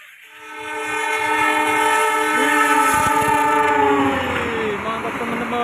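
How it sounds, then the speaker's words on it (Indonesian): A real train passes close by, its loud horn sounding in long, steady harmonic blasts over a continuous rumble of the rolling cars for several seconds. "tunggu setelah ini ada video kereta api asli teman-teman"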